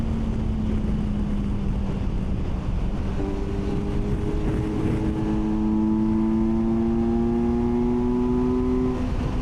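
A 2025 Kawasaki Versys 1100 SE LT touring motorcycle with an inline-four engine cruises along, its steady drone holding one pitch before a gear change, then climbing smoothly under constant wind rush, with no one talking.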